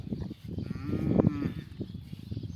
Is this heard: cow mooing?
yes